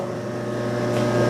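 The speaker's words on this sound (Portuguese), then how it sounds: "ligou agora o motor 2" A single-phase electric motor in an industrial PLC automation setup runs with a steady, loud hum and tonal whine, constant throughout and slightly rising, with no talk over it.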